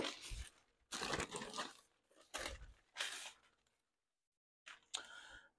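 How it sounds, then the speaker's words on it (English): Parchment paper is crinkled by hand up close in several separate rustling bursts with short quiet gaps between them. "I'm gonna come along and crinkle, crinkle, crinkle."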